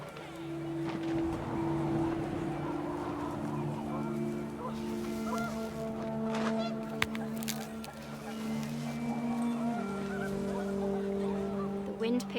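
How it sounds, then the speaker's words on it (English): Panicked geese honk in a video game scene of What Remains of Edith Finch, a flurry of overlapping nasal calls close by over wind, while a voice talks quietly underneath. "The wind picked up and panicked geese appeared and quickly went."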